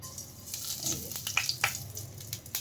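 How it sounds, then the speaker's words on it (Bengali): Black cumin seeds drop into hot oil left from frying fish, giving a close, moderate sizzle with sharp crackling pops and a few clinks, heard alone. "এবার তেলে দেওয়া হচ্ছে কালো জিরে ফোড়ন।"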